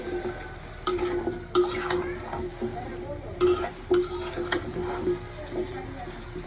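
Sweet pumpkin is stirred into fried spice paste in a pan for an egg curry, with a spoon scraping and knocking against the pan in several close, irregular strokes over a low background.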